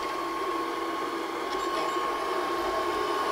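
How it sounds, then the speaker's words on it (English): A Monoprice Mini Pro 3D printer prints TPU filament slowly, giving a steady, close mechanical whir with a constant motor tone and light ticking of moving parts throughout. "It's printing TPU out."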